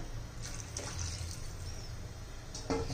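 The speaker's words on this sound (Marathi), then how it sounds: "आणि मी हे कोमट पाणी घालतीये" Lukewarm water poured into a cooking pot of shengole curry, a steady watery splash and trickle running throughout, fairly close, with a brief louder splash near the end.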